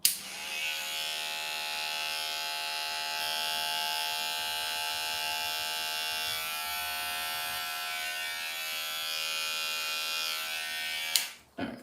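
Andis electric hair clippers with a number 2 guard run steadily through a beard trim, a close, continuous buzz lasting about eleven seconds before cutting off.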